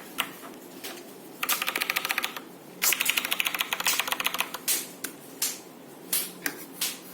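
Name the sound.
typing on Gamdias Hermes Light keyboard keys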